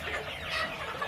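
Several poultry chickens at a farm clucking softly and irregularly, overlapping murmurs at a moderate distance with steady background noise.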